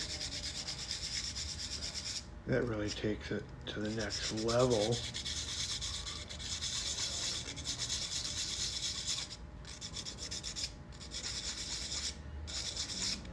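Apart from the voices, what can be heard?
wet sanding of a sculpture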